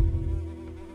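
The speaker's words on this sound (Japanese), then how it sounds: "ハエがたかってるような音が。" Flies buzzing inside the dark dungeon of the first-person horror game Dungeon Nightmares, a steady droning hum that holds on alone for about a second, loudest at the very start.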